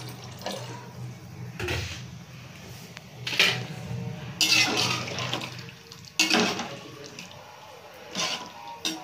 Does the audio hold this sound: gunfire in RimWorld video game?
no